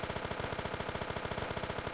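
An AK rifle in a zombie video game fires in a rapid, steady automatic burst, with evenly spaced loud shots running unbroken for the whole stretch and no voices over them.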